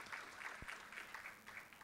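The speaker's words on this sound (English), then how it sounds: "Please give a big round of applause to our chair and panelist." Audience applause for the chair and panelists at a post-budget 2024 discussion event, a steady, fairly quiet patter of many hands clapping together for a couple of seconds with no voices over it.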